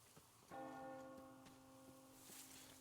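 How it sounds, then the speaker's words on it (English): A church bell rings out in the video game Metro Exodus, one loud struck tone with a long, humming decay that fills most of the clip, with no talk over it. "You hear that bell?"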